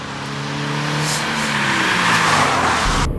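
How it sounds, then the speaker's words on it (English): A 2013 Toyota GT86 with its boxer four-cylinder engine revs high, the note climbing smoothly and loudly over a few seconds before cutting off abruptly. "when you rev it high, it sounds just like a normal 4-cylinder"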